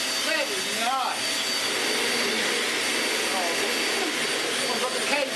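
A Dyson UP22 upright vacuum cleaner runs continuously with a loud, close, high-pitched whine and airy roar, while a person speaks briefly over it.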